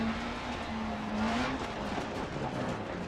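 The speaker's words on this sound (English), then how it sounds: "handbrake turn." A rally car in DiRT Rally doing a handbrake turn on a hillclimb stage: steady engine drone with a rising whine and the rough hiss of tyres sliding on loose surface, close and continuous.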